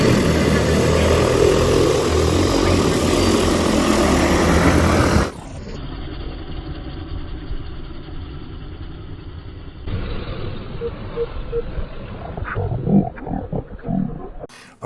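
An agricultural seeding drone lifting off a field, with a loud, dense rotor roar that suddenly drops to a quieter whir and then fades unevenly as it climbs away, with a few clicks and bumps near the end.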